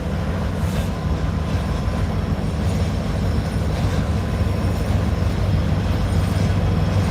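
CSX and Norfolk Southern freight locomotives, including SD40-2 and SD40-3 units, pass close by with a loud, continuous rumble and rolling rail noise throughout and no talk over it.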